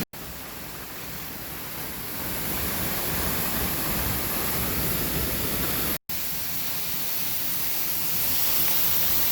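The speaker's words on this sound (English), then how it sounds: "And it's raining." Steady rain falls beside a creek waterfall, a dense broadband hiss that swells slightly after the first couple of seconds and continues alone without talk.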